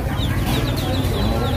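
Ducklings for sale at a small market stall in Long An, Vietnam, give repeated high, thin peeping chirps over a dense, loud background of market bustle.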